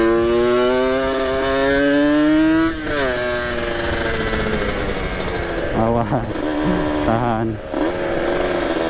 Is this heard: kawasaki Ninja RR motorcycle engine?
yes